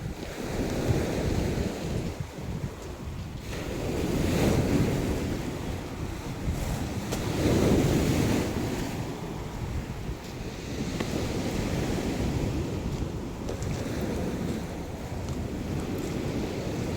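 Sea waves wash onto a rocky shore, surging and receding in slow swells with heavy wind buffeting the microphone.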